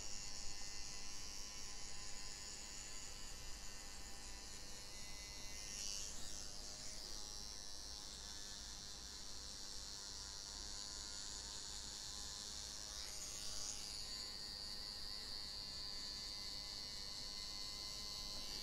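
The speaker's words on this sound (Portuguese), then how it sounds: "se por acaso vocês passarem a maquininha de acabamento nessa posição e não sair" Electric trimmers buzz steadily while finishing the side and back of a square fade haircut, a continuous close hum with slight shifts as the clipper moves against the head, no talk.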